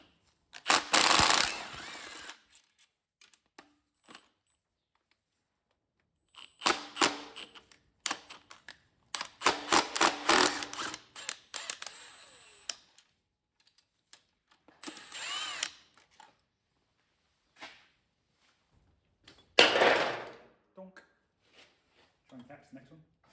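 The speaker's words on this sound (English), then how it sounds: "So what I'm going to do is undo these bolts on here" A power tool undoes the bolts on an engine block in several sharp, loud bursts with gaps of quiet and handling noise between them.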